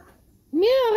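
A single drawn-out meow rises and falls, close and clear, after a moment of quiet.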